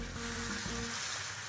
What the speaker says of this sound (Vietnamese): chúng ta sẽ cho miếng thịt vào ram.